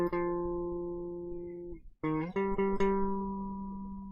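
A guitar plays a riff backwards: two sustained, clean, fairly quiet notes, a short gap, then a few more notes, each ringing out.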